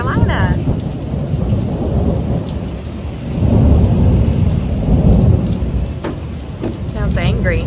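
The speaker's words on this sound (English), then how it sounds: "Apparently, this is just a thunderstorm" Heavy rain pours steadily during a stormy North Carolina morning while thunder rumbles low and long throughout, loud and close, with a few birds chirping faintly in the background.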